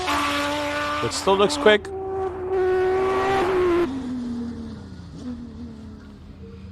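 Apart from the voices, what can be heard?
race car engine at hill climb, possible missed gear shift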